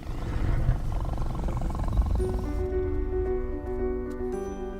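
A lion gives a deep, rumbling roar that fills the opening seconds, close and loud over a steady wild background, then gives way to a quieter sustained tonal hum.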